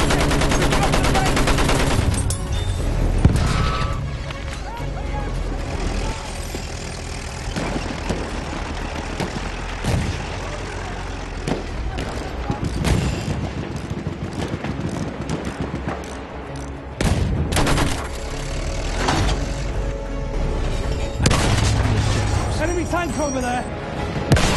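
Heavy gunfire and booming explosions from a Battlefield 1 multiplayer battle, sustained and dense throughout, with distant impacts and a voice talking over the din at times.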